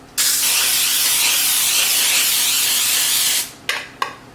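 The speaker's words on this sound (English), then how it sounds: "I'm going to spray it with the baking spray" A steady spray of baking spray into a pie dish hisses for about three seconds, close and loud, followed by a few short clicks and taps.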